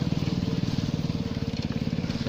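A motorcycle passes at a steady distance, its engine giving a fast, regular putter that runs evenly throughout, with no talk over it.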